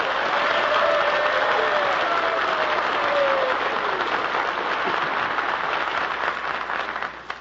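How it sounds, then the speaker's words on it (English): A live studio audience at a breakfast radio show breaks into sustained cheering and applause, loud and steady before tapering at the end, with a faint whistle rising over the crowd. "let's send a cheer to the great Alabama Crimson Tide"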